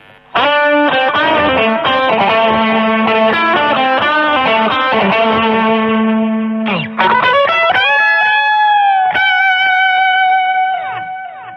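A loud electric guitar rings out distorted notes and bends through a Vox VX15GT amp, with pulsing tremolo and echoing delay repeats, no voices.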